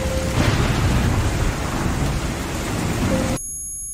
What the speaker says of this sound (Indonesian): Malam itu hujan sangat deras